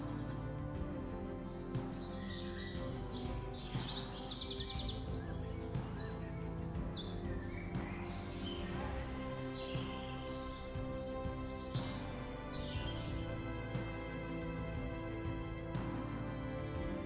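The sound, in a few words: tropical birds calling in an Australian rainforest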